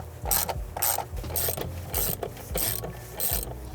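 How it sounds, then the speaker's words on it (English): Ratchet working 10 mm bolts loose on a vehicle's PCM bracket, with bursts of quick clicking strokes repeating at a steady rhythm, close and fairly loud, with no talk. "Now I'm gonna unscrew these two bolts."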